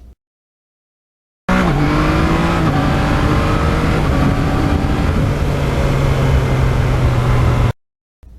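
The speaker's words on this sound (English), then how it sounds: "that muffler is a big part of what makes this bike fun to ride" A 2020 Yamaha MT-09 motorcycle roars loudly through its muffler in one sustained burst of about six seconds, its exhaust note climbing and settling. It starts abruptly out of silence and cuts off just as sharply.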